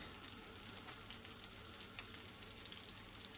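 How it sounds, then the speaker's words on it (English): Slices of fish frying in a pan for a fish and tofu stir fry make a soft, even sizzle and crackle, faint and steady with no speech. "So while the pieces of fish, slices of fish are being cooked"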